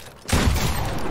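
Gunfire from a video game boxfight erupts after a quiet moment, a dense, loud burst of rapid shots sustained to the end.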